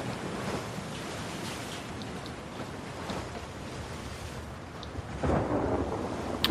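Stormy sea water in The Last of Us Part II, a dark continuous rumble of waves and wind with a heavier surge near the end, with no talk.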